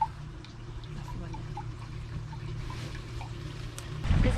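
Waterfall at Chalice Well in Glastonbury, a steady rushing and trickling wash of water heard throughout, fairly close and continuous.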